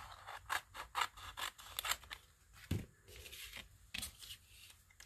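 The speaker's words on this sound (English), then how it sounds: "I'll go ahead and cut these out too." Scissors snipping out paper pieces for an art journal challenge, a steady run of short crisp cuts with soft rustles and scrapes of paper between them, close and fairly quiet.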